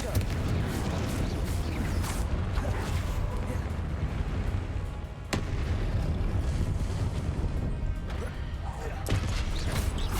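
Expelliarmus and Confringo spells cast in the Hogwarts Legacy video game: dense crashing, blasting bursts follow one another almost without pause, a sharp crack cuts through midway, and a voice talks over the din.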